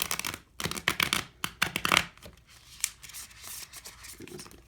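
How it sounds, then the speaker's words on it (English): A deck of tarot cards being shuffled by hand, with a run of crisp riffling and slapping bursts in the first two seconds, then softer scattered card rustles trailing off, close and fairly quiet. "That wasn't the best shuffle there."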